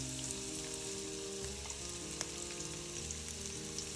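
Onion frying in oil in a pan on a medium stove, a steady crackling sizzle with fine pops, close and continuous with no talk over it.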